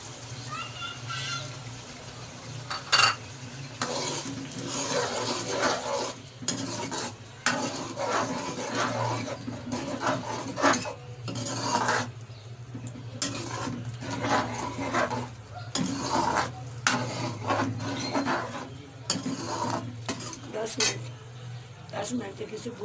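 Masala kaleji (liver) frying in a handi, with repeated scrapes and clinks of a spoon stirring against the pot over a low sizzle, while a person talks throughout.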